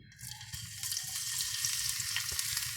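Garlic sizzles and fries in a hot pan for a Filipino sotanghon-with-vegetables dish, a steady close crackle with occasional stirring clinks and no talking.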